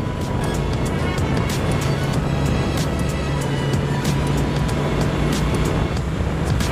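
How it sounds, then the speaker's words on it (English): A Benelli Leoncino 800 motorcycle runs on its stock exhaust with a loud, steady engine drone and no breaks, heard alone. "The stock exhaust on the Leoncino 800 also gives a really, really nice sound."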